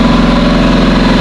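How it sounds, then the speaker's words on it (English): A generator engine runs steadily beside a shipping container at a plumbing job site, giving a loud, close, constant hum with no pauses. "And that is the sound of the generator."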